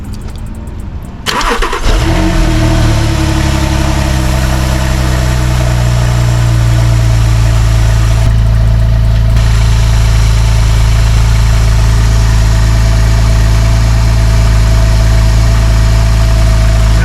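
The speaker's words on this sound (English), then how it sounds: "I gotta get a cold start." A Porsche engine cold-starts with a sharp crank and catch, flares briefly, then settles into a loud, steady, close idle that runs on evenly for the rest of the clip.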